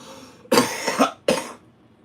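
Two harsh, close coughs in quick succession, the first drawn out with a double burst, the second shorter.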